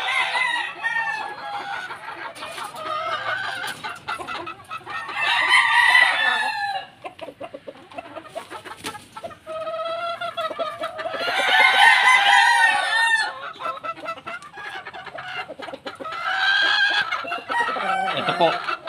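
Pumpkin Hatch gamefowl hens and roosters at a breeding yard, with several loud, close crows repeating in bursts and steady clucking between them, no voices over the birds.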